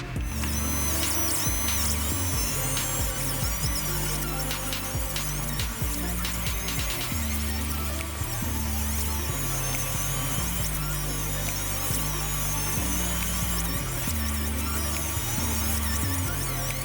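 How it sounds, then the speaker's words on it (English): A fibre laser engraving machine marks import codes onto gun bolts, actions and barrels in a workshop, giving a continuous loud mechanical whir with regular pulsing low tones and scattered high squeals, no voices. "are using our fibre laser engraving machine to mark a series of guns"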